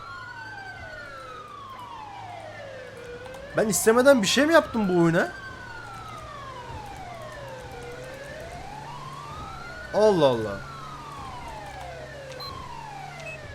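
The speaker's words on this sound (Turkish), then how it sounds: "bu siren ne kadar kötü ya" A police car siren in GTA 5 running the LSPDFR police mod wails up and down in long repeating sweeps, while someone speaks in Turkish in a few short bursts over it.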